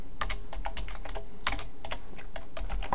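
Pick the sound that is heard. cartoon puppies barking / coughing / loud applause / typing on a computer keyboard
typing on a computer keyboard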